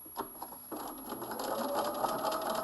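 A sewing machine runs a seam on a coat back panel to form the back pleat, starting with a few short stitch bursts and then settling into a steady, moderately quiet whirring run.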